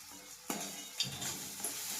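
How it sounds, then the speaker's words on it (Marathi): Tomatoes frying in a pan with salt added, a steady sizzle broken by a few sharp stirring clacks of a spoon against the pan, close and moderately quiet with no talk. "टमाटर आपल्याला स्मूथ होईपर्यंत फ्राय करायचा आहे।"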